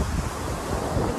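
Ocean waves wash against the shore of a seaside forest, a steady broad roar of surf mixed with gusting wind buffeting the microphone, close and continuous with no talking.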